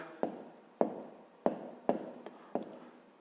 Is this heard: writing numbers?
yes